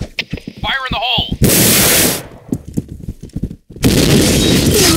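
Grenade blasts in the shooter game Point Blank come as two loud, sustained explosive roars, the second near the end, separated by sharp clicks and shots, with a brief voice line early on.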